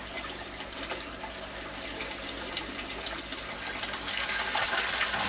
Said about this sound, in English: this is from a 12 watt pump, and it's just about to flush.